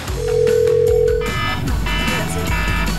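A telephone rings loudly indoors with a sustained electronic tone and steady buzzing, continuing without pause across the clip.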